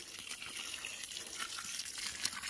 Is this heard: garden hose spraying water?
yes